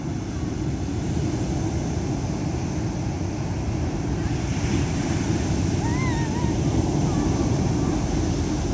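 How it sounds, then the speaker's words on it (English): Ocean waves break on the shore in a continuous loud roar of white water, with wind buffeting the microphone and no pause in the surf. "the waves making a lot of noise today."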